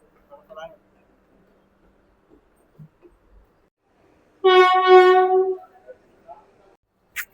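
Vande Bharat express train on the Mumbai–Shirdi route at a station, sounding one clear horn toot of about a second amid quiet surroundings, with brief faint knocks before and after.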